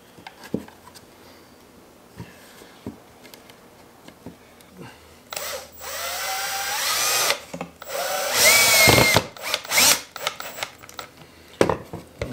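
A power drill whirs in short bursts, driving screws into a homemade deer feeder, with scattered handling clicks and knocks before and between the loud, close runs.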